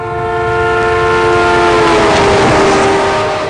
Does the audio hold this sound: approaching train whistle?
yes